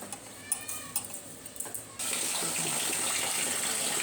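Tap water running and splashing into a vessel of rice to soak it for mushroom biryani, a trickle at first, then a steady loud stream in a kitchen.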